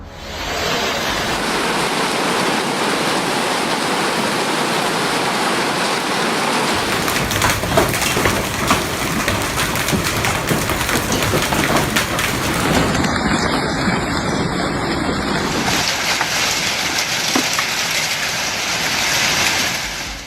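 Hail pounds down steadily during a Florida hailstorm, a dense, loud roar of impacts with gusty wind noise that shifts in texture partway through and never pauses.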